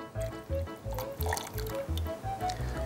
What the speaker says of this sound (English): all I'm going to do is pour it into another beaker